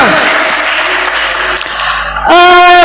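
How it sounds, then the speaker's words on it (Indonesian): Loud, steady applause from an audience at a public discussion forum, a continuous wash of clapping that gives way near the end to a sustained ringing tone. "Tepuk tangan buat beliau."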